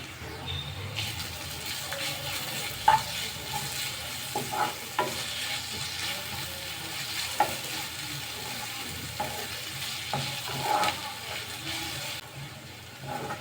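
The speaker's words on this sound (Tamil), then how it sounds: "இப்போ பூண்டு சேர்த்து லோ ஃப்ளேமில் 2 நிமிஷம் ஆகுது" Crushed garlic cloves frying with onions in oil over a low flame, a steady soft sizzle with occasional stirring scrapes and clinks throughout.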